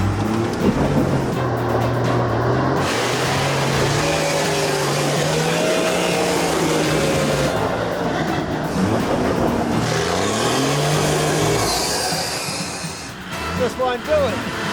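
A 4WD climbing a slippery rocky hill, its engine held at flat-out revs with rising and falling pitch as the wheels slip and struggle for traction, loud and continuous with voices talking over it.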